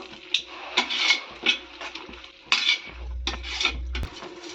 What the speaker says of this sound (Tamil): இந்த காளான் நல்லா வதங்கட்டும்